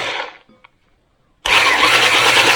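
An electric mixer at slow speed stirs homemade bream groundbait with boilie dye. After a fading noise and a near-silent pause, a loud, steady motor whir starts abruptly and runs close-up to the end.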